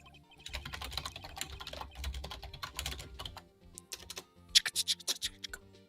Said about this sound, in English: I hear that typing.